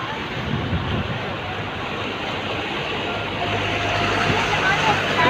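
Floodwater washing and splashing during a heavy rain flood in Sharjah, a steady rushing wash that swells louder toward the end, with people talking over it.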